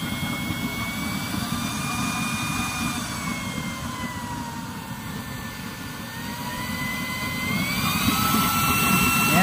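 A used-oil stove's nozzle burner with a new hole pattern roars, a loud continuous rushing flame with a faint shifting tone above it. The roar rises a little toward the end.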